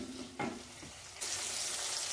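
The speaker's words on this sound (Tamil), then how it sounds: "எண்ணெய்க்குள்ளேயே வந்து புளியும் போட்டு வதக்கிடுங்க" Tomato and tamarind sauté in hot oil for a coriander leaf chutney, a soft close sizzle with a brief stirring scrape, then a steadier, brighter frying hiss for the last second.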